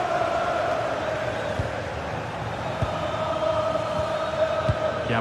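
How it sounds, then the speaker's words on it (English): A football stadium crowd in a video game keeps up a constant, restless murmur and low jeering, with a few faint thumps under it and no clear cheering. "You can sense how annoyed the crowd are."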